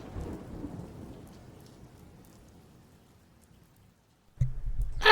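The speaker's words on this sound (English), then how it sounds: "And it's raining again." Rain and thunder in the video game Vaudeville: a low rumble of thunder fades into soft rain, followed by a sudden loud burst of rain and storm noise near the end.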